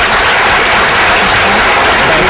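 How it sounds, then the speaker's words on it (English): A large audience at an event in Wilmington gives the panel loud, continuous applause that fills the whole stretch with dense clapping. "Will we please have a round of applause for the panel?"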